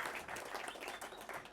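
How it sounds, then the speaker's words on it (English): A short round of applause for Peter at an awards gathering, many hands clapping steadily as a dense, continuous patter. "Let's all give him a round of applause and thanks, Peter"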